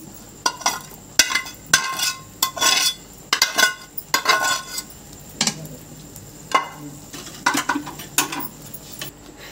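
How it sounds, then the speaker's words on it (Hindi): A spoon stirring vegetables into white sauce macaroni pasta in a pan, producing irregular metallic clinks and scrapes in short bursts, close and fairly loud, with no talking. "मिक्स करते जाऊंगी। वेजिटेबल्स ऐड कर दूंगी।"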